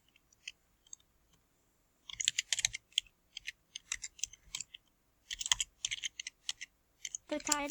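Bursts of typing on a computer keyboard, clusters of quick clicking keystrokes separated by brief pauses, close and clear with no talking.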